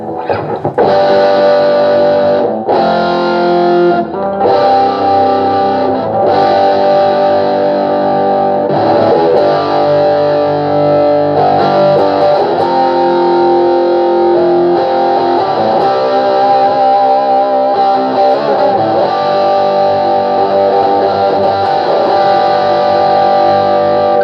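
Electric guitar played through a DigiTech RP100A modeling processor with a heavy distortion and fuzz setting, loud sustained chords and riffs ringing with bright, saturated tone throughout.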